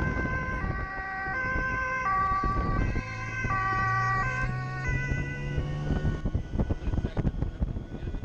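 An ambulance siren wails in steady alternating tones on a Dutch motorway under police escort, loud and continuous over road and wind noise.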